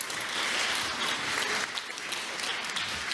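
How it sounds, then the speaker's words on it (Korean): Audience applause greeting a lecturer at a Korean public talk, steady dense clapping from a crowd sustained for a few seconds without any voices. "큰 박수로 환영해 주시기 바랍니다"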